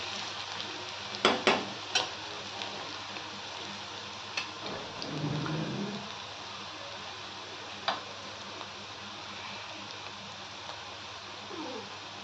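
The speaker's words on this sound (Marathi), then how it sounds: "कांदा लाल होईपर्यंत त्याला हलवायचं थोडंसं।" Chopped onions frying in a pan, a steady crackling sizzle throughout with a few sharp clicks and scrapes of stirring, moderately close and without talk.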